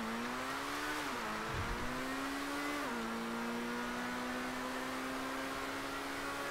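The Progen Emerus supercar in GTA Online revs hard under full acceleration. A steady, loud engine tone climbs through several gear changes, each marked by a brief dip before it rises again, and no one talks.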